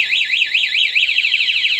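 Two-way alarm on a Supremo 150 motorcycle sounds loud and close, a rapidly warbling electronic siren rising and falling in pitch without pause.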